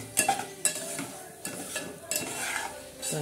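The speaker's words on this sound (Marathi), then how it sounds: "आता हा रवा आपण मस्त असा खरपूस असा चांगला असा खरपूस भाजून घेणार आहोत" Semolina dry-roasts in a pan for upma, heard as soft, irregular stirring scrapes and light rasping bursts from a spoon against the pan, fairly quiet and close, with no voices.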